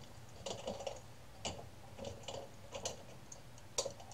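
Keys clatter on a computer keyboard in short uneven bursts of clicks separated by pauses, close and fairly quiet, with no speech.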